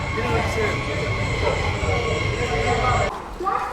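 Passenger train 17248 rolls into platform 1 at Ongole station, a loud, steady rumble of carriages and wheels that drops away sharply near the end.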